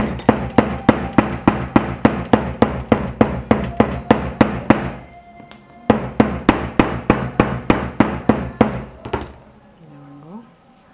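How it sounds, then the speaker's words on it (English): Rapid, steady thuds of a metal hammer beating on saddle-stitched leather, a brief pause midway, then another run of even blows before fading out. "So pick our metal hammer and"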